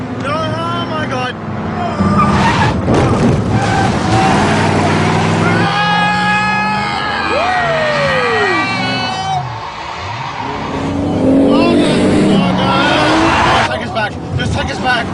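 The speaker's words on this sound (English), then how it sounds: "Stop the car right now!" A car driven hard by a race car driver roars and revs close by, with tire squeals and shifting engine pitch, while people in the car shout and talk over the noise.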